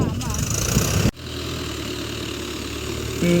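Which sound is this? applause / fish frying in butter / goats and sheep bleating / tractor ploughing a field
tractor ploughing a field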